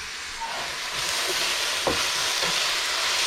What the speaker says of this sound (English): because it's already kind of sizzling, I'm just going to go ahead and dump these in